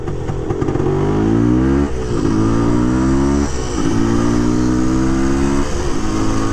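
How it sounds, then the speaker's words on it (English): A 1978 Yamaha DT400 big bore two-stroke motorcycle engine revs up and down repeatedly, close and loud, its rising pitch sweeps cycling through several throttle blips with no talking. "Nothing like a big bore two-stroke."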